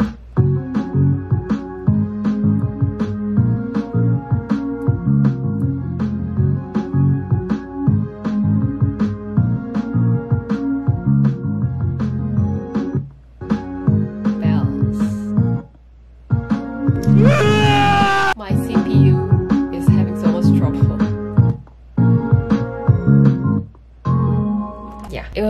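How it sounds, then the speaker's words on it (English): The chorus of a cover production plays: bells, synth, FM bells and pizzicato over steady, punchy drums and bass, looping loudly with a couple of brief dropouts and a short swooping vocal-like flourish midway. "the chorus with the bell and the synth, drums and bass and the FM bells and pizzicato"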